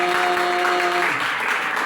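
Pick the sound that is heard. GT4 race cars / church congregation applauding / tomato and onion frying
church congregation applauding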